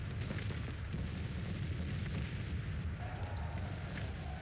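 Civil War cannon artillery fire in the Grand Tactician strategy game, a dense continuous rumble of booming battle noise with deep low-end roar throughout and no distinct talking.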